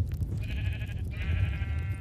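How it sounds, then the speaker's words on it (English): Sheep in the Minecraft video game give two drawn-out bleats back to back over a low background rumble, moderately loud and close. "those sheep are getting really annoying"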